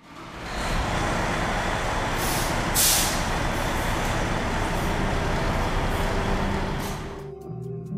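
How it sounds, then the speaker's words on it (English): A fire truck pulling out of the station on a call, a loud continuous engine and road rumble with a brief hissing burst partway through, fading near the end into quieter background. "Truck 11 is out the door."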